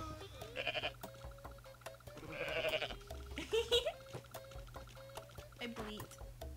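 A goat bleating in the video game Goat Simulator, a few nasal bleats rising and falling over game sounds and a low steady hum, fairly faint overall.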